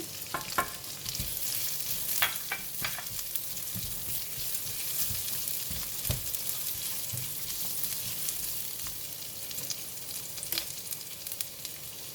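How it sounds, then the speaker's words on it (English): Chili and vegetables are stir-fried in a pan for mee goreng with tofu. A steady, dense sizzle runs throughout, with occasional spatula scrapes and taps, close and fairly loud, and no voices. "Next, I'm going to add in the chili and the vegetable in the pan."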